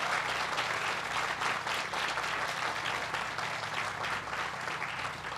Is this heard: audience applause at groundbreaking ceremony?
yes